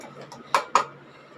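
Half a cup of grated coconut goes into a steel mixer-grinder jar used for grinding chillies, marked by two sharp, close metallic clinks a moment apart over a quiet background.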